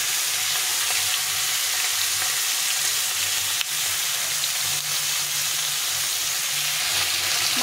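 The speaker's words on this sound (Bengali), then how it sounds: "ভালো করে ভেজে নিতে হবে।" A katla fish head fries in hot oil, giving a loud, steady, close sizzling hiss that runs the whole time without pause or talking.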